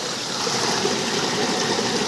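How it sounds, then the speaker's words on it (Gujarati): Steady, dense rush of water gushing into a well, a continuous roaring splash with no pauses, loud and close. "વાવીની અંદર આજે ધોધ ચાલુ થયો છે"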